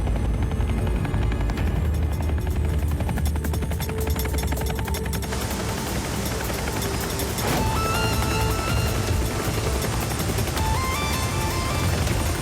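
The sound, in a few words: cartoon helicopter flying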